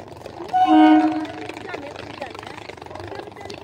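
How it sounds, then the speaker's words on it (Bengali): A train horn blares briefly over a low rumble of rail traffic, and people talk nearby in a busy, echoing space. "ট্রেন আসছে"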